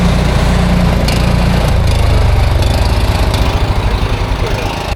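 A Power Ox 240 garden tiller's small engine runs steady and loud close by, a low chugging drone whose pulsing beat quickens and turns rougher partway through.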